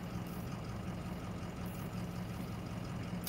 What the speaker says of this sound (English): You hear a diesel engine, right?